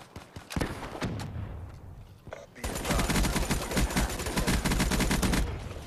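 Call of Duty gunfire from a robot: a few scattered shots and a brief lull, then a loud continuous burst of rapid automatic fire with voices chattering over it.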